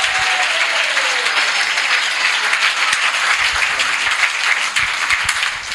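A church congregation breaks into loud, sustained applause, dense steady clapping from many hands filling the hall for several seconds with no break.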